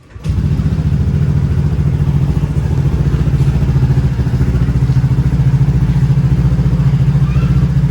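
A Honda PCX scooter engine runs steadily right after an oil change, a loud, close, even idle putter that continues unbroken for several seconds with no one speaking.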